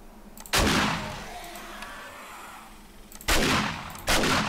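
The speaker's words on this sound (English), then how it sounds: "Shotgun into the face." A shotgun fires three times in the survival game 7 Days to Die: heavy close blasts, each with a short fading tail, the first alone and the last two closer together.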